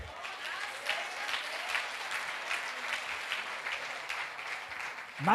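A church audience applauds through a long, even spell of clapping at moderate volume, dense and continuous from start to end with no voices.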